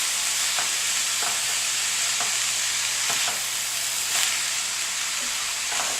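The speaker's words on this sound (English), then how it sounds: "I'm going to stir it around." Vegetables for a vegan keto seitan egg roll in a bowl sizzle steadily while being stir-fried in a pan, with soft periodic scrapes of stirring under the constant hiss.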